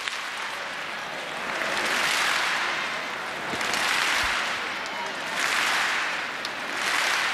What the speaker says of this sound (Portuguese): Acelerando as palmas.